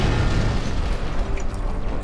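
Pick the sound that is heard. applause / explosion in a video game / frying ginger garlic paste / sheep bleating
explosion in a video game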